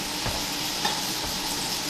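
Lobster tails fry in a pan with a loud, steady sizzle and hiss right by the mic, broken by a few soft stirring scrapes and no talking.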